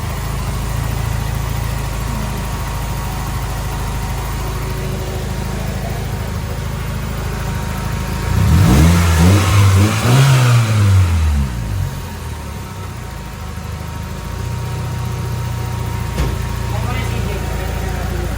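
A Toyota Corolla AE111 engine after a top overhaul with a rebuilt head idles steadily, then revs up loudly for a few seconds before settling back to idle. People talk throughout.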